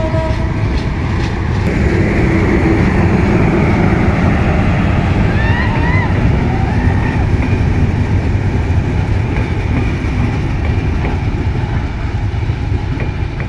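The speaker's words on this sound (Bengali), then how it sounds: "মালবাহী বিশাল বড় ট্রেনটি।" Large Bangladesh Railway freight train rolling past at Joydevpur, a loud, steady, close rumble of wagons with rail clatter and brief high wheel squeals partway through, some speech faintly underneath.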